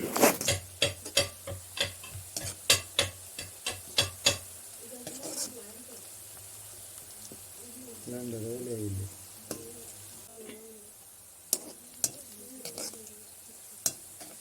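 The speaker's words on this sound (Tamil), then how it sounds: "வெங்காயத்தை நல்ல முருகலாக பறிச்சு எடுத்துக்கொள்வோம்" Onions frying until crisp for Sri Lankan Tamil chicken curry, with a run of sharp rhythmic spoon taps and scrapes against the pot over a low sizzle, then a voice speaking briefly, followed by scattered clanks.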